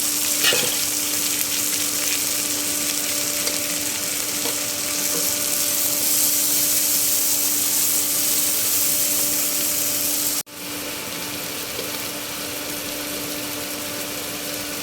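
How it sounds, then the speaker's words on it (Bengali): Onions and green chillies sizzle loudly in hot mustard oil for a fish bhuna, a steady broadband frying hiss that runs throughout with a brief dip near the end, no voices. "তেল দিয়ে দিয়েছি, সরিষার তেল। মাছ ভুনা করবো। পেঁয়াজ কাঁচামরিচ দিয়ে দিলাম।"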